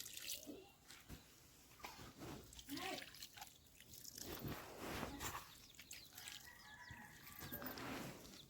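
A rooster crows at a rural home in Odisha, alongside scattered clucks and rustling nearby, with dripping water and other background sounds and no one talking over it.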